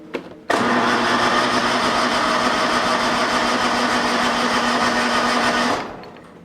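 A lawn mower engine that has been sitting unused for a while catches and runs at a steady, loud, buzzing drone for about five seconds before cutting off, heard up close.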